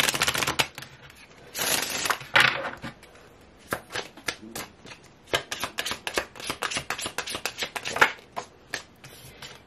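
Tarot cards are shuffled repeatedly, with rapid riffling flutters and crisp snapping taps close by, rising and falling in short bursts.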